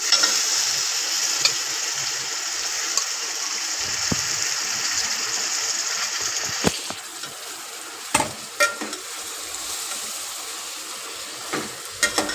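Food frying in a pan during bangda fry and mutton curry cooking, a steady hiss of sizzling that drops after a few seconds, then scattered stirring clatters, no talk.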